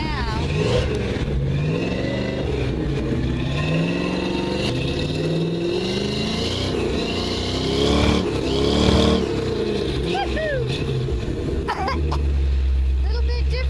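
Brand new engine running in a 1955 Chevy pickup, idling and revving with rising and falling pitch close by, while someone talks over it.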